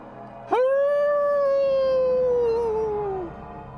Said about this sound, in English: as you hear this howl.